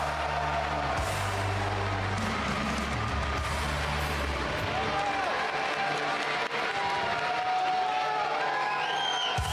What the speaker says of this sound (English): I want to hear a huge round of applause for the Dino Nuggets.